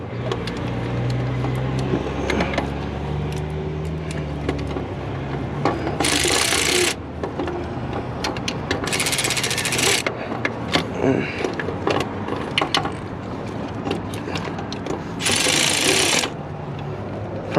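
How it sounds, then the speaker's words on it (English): A long neck ratchet tightens bolts on a Duramax CP4 high-pressure fuel pump in a 2015 Chevy Silverado 2500HD. It gives three separate bursts of rapid, loud clicking, with knocks and shuffling of tools in between. "Problem with the long neck ratchet is it's so big."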